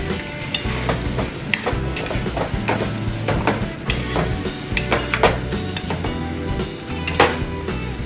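Pork ribs in sauce being stirred in a pan with oyster sauce about to go in: a continuous sizzle under repeated scraping and clacking of a utensil against the pan, with irregular louder knocks and no talking.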